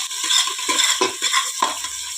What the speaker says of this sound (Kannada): ಈರುಳ್ಳಿಯನ್ನು ಹಾಕ್ತಾ ಇದ್ದೇನೆ ಅದು ಸ್ವಲ್ಪ ಫ್ರೈ ಆಗಬೇಕು